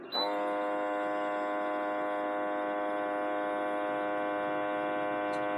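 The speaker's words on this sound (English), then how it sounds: "That means it's going to vacuum and seal it." A vacuum sealer's motor starts and runs with a steady, even hum, close by and constant throughout.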